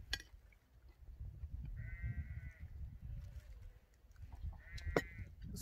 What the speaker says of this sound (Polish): Słyszycie, tam przyszła jagnięcina. Beczy, muczy